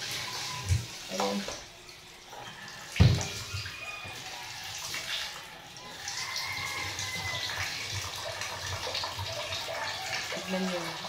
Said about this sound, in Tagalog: Ang hina ng tubig ko